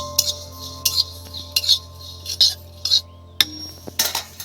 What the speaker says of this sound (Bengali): এবার বন্ধুরা এই জিরাটা একটু হালকা নেড়ে নেব।